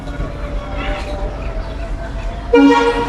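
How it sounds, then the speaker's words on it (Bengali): A train sets off from a Bangladeshi rural station, with a steady low rumble building under the scene and a loud horn blast sounding near the end. "মনে হয় ট্রেন ছেড়ে দিচ্ছে তাড়াতাড়ি গিয়ে ট্রেনে উঠি"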